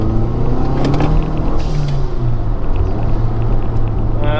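A 2012 Mazdaspeed 3 pulls hard in second gear from about 3,000 RPM, its engine a loud, close, steady rumbling drone with rising tonal harmonics and no talk over it.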